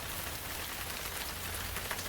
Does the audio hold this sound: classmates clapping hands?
no